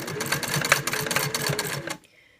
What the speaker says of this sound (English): I'm going to just follow along this line here and baste the border